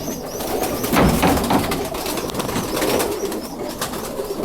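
Roller pigeon, a blue bar whose usual black wing bars are white, cooing softly in a continuous low murmur amid other birds and a busy loft background.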